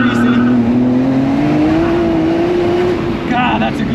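A Nissan Skyline GTR race car on a lap, its engine loud and close with a steady rising drone as it accelerates, briefly easing near the end, with a voice talking over it.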